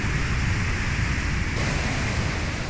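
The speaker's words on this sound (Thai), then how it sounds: "น้ำตกโตโน่ครับ" Tono waterfall in Karen State, Myanmar, a large multi-tiered cascade, roars as a steady, dense wash of falling water, loud and unbroken throughout with no voices.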